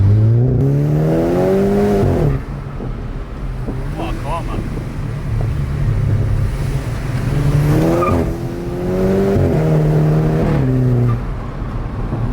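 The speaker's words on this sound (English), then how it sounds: "Very noisy car, very noisy, but sounds good." A high-mileage 350bhp VW Golf GTI on lowered springs drones loudly from inside the cabin, the engine rising and falling through repeated revs and gear pulls amid wind rush.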